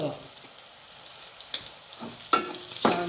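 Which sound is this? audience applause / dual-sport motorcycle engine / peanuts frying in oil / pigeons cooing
peanuts frying in oil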